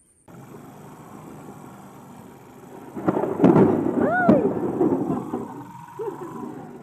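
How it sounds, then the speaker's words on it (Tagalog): Heavy rain and lightning storm on a fishing trip: steady rain hiss gives way to a loud, rolling thunder rumble that swells midway and slowly fades, close and powerful. "napakalakas na ulan, saka napakalakas ng ano, ng kidlat"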